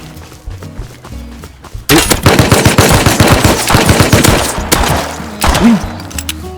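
Gunfire in Rust erupts after a quiet moment into a loud, close, rapid string of automatic shots with dense thumping reports, easing briefly before a final burst.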